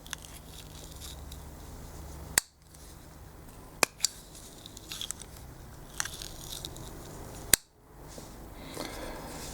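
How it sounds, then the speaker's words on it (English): A Marttiini MBL folding knife with a gritty action is opened and closed a few times, giving a few sharp clicks of the blade locking and faint gritty scraping between them in a quiet room. "This one I'm just going to open and close it a couple of times so you can hear this."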